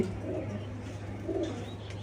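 Low, repeated cooing from racing pigeons nesting on eggs in a loft, two soft swelling coos over an even hum with faint chirps, no talking.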